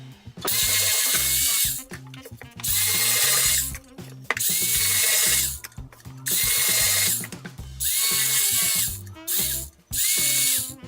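A Black & Decker handheld power tool whirs loudly in repeated bursts of about a second each, separated by short pauses and clicks, as it carves the head of a sculpture.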